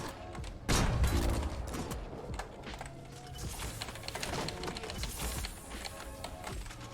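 Gunfire from a weapon in the video game Fortnite, crackling bursts of rapid shots with the loudest volley early, then continued scattered firing and clicks.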